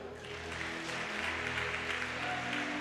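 Steady applause from a church congregation during a worship service, a dense, even wash of clapping held throughout at moderate distance with no talk over it.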